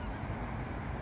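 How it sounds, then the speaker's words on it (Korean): Migrating geese flying overhead above a fog-covered reservoir on an early morning lakeside walk, their honking calls blending into a dense, continuous chorus that fills the air without a break. "철새들이 저 위에 이렇게 막 날아가고 있고요."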